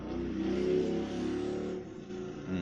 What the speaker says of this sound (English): very loud car down my street